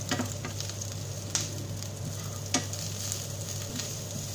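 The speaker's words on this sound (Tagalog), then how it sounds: "Lagay natin ang ating onion. Sabay na din natin ang ating yung white part na ating spring onion." Chopped onion and the white parts of spring onion sizzle steadily in hot oil in a pan for a beef and mushroom stir-fry, with occasional stirring scrapes and small pops.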